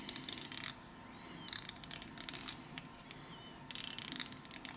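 A CoilMaster coil winding jig being turned by hand gives off bursts of ratcheting, clicking mechanical noise, close and fairly loud, separated by quieter gaps.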